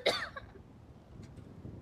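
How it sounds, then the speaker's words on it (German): One short, close cough bursts out at the start of a roleplay game scene, then fades into quiet background noise. "Dieses Husten."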